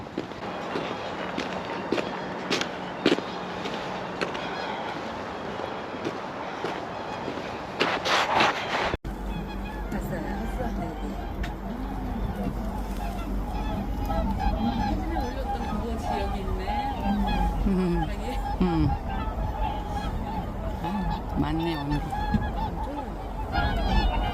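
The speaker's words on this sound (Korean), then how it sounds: "고니 서식처입니다." Swans honking at a riverside swan habitat near Paldang Bridge, a busy chorus of repeated calls at moderate distance, with footsteps and people talking nearby.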